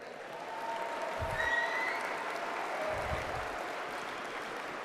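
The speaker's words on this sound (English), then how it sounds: "the crowd gave a big applause break" A stand-up comedy audience breaks into sustained applause, a dense, even wash of clapping. It swells and holds steady for several seconds, with a few low thumps underneath and no talking on top.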